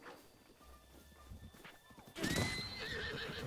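Horse in The Legend of Zelda: Breath of the Wild whinnies and clip-clops in game audio, with a burst of louder hoofbeats and a rising whinny toward the end; some voice is present beneath.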